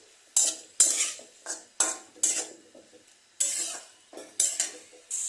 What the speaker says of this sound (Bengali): এখন এটাকে 3 থেকে 4 মিনিট এই মশলার সঙ্গে এটাকে ভালো করে কষিয়ে নেব